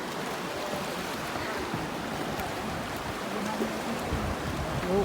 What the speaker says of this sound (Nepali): वेब हेर न, वेब पानीको वेब